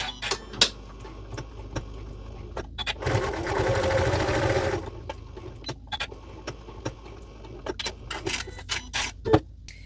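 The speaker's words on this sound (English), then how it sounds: "We're just going to stitch from one edge to the next, back stitching at the top, at the beginning and the end." A sewing machine stitching quilt binding from edge to edge runs in a steady whirring burst for a couple of seconds, surrounded by close clicks and handling knocks of fabric and machine.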